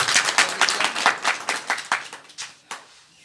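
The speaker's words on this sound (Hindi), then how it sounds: "इसके लिए एक बार और जोरदार ताली होनी चाहिए।" A seminar audience claps in fairly rhythmic bursts. The clapping is loud at first, then thins out and fades toward the end.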